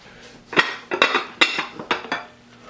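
A lid set onto a casserole dish of pork and sauerkraut gives a series of sharp clinks and clatters, five or six close knocks of lid against dish in quick succession, with no talking.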